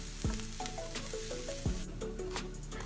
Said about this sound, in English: heat some olive oil in a pan, add the chopped onion, then goes 1/2 to 1 teaspoon of red chili flakes.